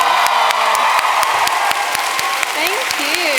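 Live audience at an interview event applauding and cheering for Leigh-Anne Pinnock, steady dense clapping with scattered whoops and shouted voices, loud and continuous.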